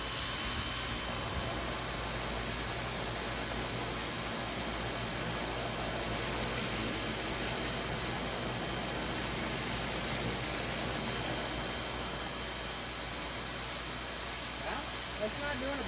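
A power washer blasts white and blue paint off a surface, a steady loud hiss with a high whine running unbroken throughout.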